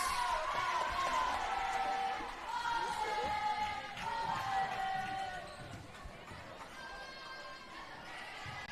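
A high school gym crowd at a girls varsity volleyball match against Eastlake roars and whoops steadily, the noise loud and continuous with shrill cheers rising at moments and slowly easing off toward the end.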